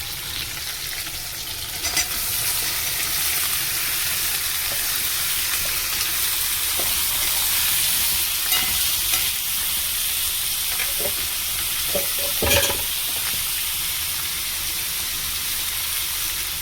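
Cauliflower, potato, onion and tomato fry together in a pan with a steady, close sizzle throughout, broken by a few sharper stirring scrapes and clicks.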